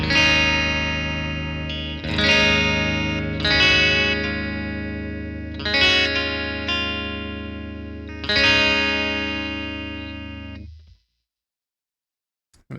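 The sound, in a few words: guitar clean tone through Neural DSP Rabea amp with effects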